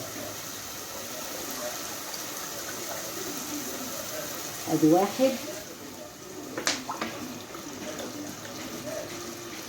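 Water runs steadily into a pot of rice, four cups for two of rice, a continuous gushing hiss with a couple of brief clinks and a short spoken word partway through.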